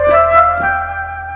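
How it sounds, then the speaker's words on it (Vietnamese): Flute voice on a Kurtzman K250 electronic keyboard plays a short sustained note with a few soft breathy attacks, clear and close, no talking. "đây là tiếng sáo này"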